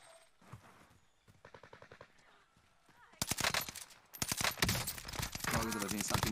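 Gunfire in the video game Warzone: sparse single shots and short bursts at first, then dense, loud rapid automatic fire in the second half, with intermittent talk over it.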